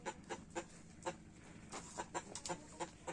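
Several chickens cluck in quick, uneven bursts, fairly faint and close together, with no talking.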